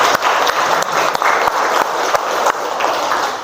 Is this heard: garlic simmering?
no